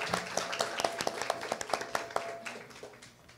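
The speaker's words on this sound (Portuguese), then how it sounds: "uma salva de palmas ao Procópio" A small, quiet audience at a science-themed election interview claps for Procópio. The individual hand claps are sparse and distinct, thinning out over a few seconds.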